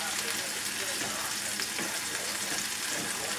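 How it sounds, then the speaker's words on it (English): Veal sizzles hot in a pan with scallions close at hand, a dense continuous frying hiss with soft stirring movement beneath, close and steady throughout, no talk. "And add the veal. Mix this up well. Let that veal get nice and hot."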